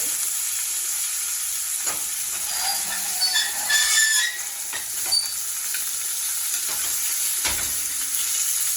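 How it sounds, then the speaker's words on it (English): Steak sizzling loudly in a pan with butter, garlic and thyme, a constant bright frying hiss with spoon scrapes and splashes from basting, close and without talk. "And baste the steak."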